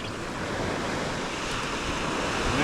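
Continuous roar of surf washing onto the beach at Manasota Key, Florida, steady and fairly loud with wind rush, no voices.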